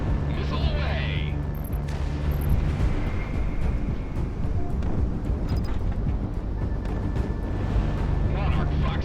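Missile launch and distant explosions in the jet combat game Project Wingman, a rumbling whoosh and dull booms over a constant engine roar, with a voice talking in places.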